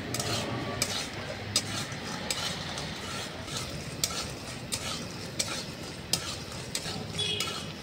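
Lentil dumplings (bori) frying in a pan while a spatula stirs them, steady sizzling under repeated sharp scraping and tapping strokes at a fairly even rhythm.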